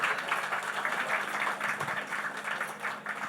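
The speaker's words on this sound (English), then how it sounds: "One more last round of applause for all the people on stage and all the achievements that they have made" An audience at a TV show promo launch applauds the people on stage, sustained dense clapping with an even rhythm throughout, no voices over it.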